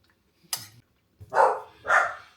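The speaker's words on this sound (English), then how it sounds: "the dogs have gone bonkers" Dogs bark at someone knocking on the front door, with a sharp knock-like hit followed by two loud, close barks in a quiet indoor room.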